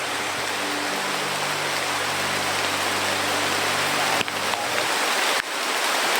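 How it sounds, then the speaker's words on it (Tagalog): Heavy rain pours in a dense, steady hiss throughout, loud and close, with a low hum underneath and a couple of sharp knocks near the end; no one speaks. "Kahit malakas yung ulan"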